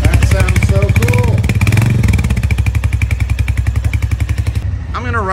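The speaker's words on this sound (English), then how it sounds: "This is your starter here. That sounds so cool." Royal Enfield Hunter 350 motorcycle started on the electric starter, then settling into a loud, close, steady single-cylinder thump with a voice talking over it.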